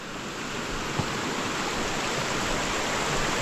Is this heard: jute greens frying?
no